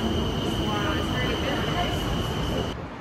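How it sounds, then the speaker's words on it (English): A Bangkok Sky Train ride on the Gold Line toward Icon Siam, with a steady rumbling roar of the moving train inside the carriage, a constant high whine above it, and a drop in level near the end. "now we're taking the Sky Train, the Gold Line, to Icon Siam"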